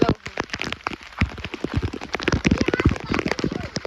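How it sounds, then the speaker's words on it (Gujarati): Heavy rain pours down close by, a dense, steady patter of drops crackling and splashing over the whole stretch. "હું કહું ફૂલ વરસાદ આવે છે"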